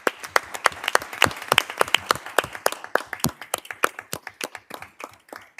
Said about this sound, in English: a great round of applause for all of their efforts